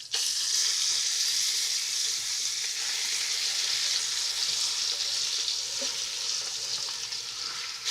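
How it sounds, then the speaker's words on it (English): Bacon pestata renders in a pot with browned beef for a red-wine braise, a dense, steady, close sizzle and crackle that holds evenly throughout. "you want the pestata you want to render the bacon in there a little bit"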